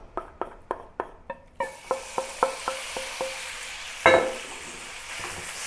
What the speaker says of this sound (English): Heat the oil in the pan until it is medium to medium high heat, and then put the beef into it.